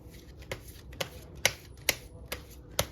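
A deck of playing cards is shuffled by hand in quick riffling bursts, five or six crisp ruffles spaced about half a second apart, close and fairly quiet with no talking.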